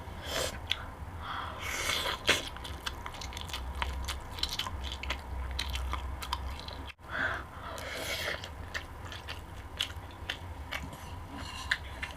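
Close-up eating of old-style Korean fried chicken with rice, with soft biting and chewing sounds and occasional crunches and breaths continuing steadily throughout, no talking.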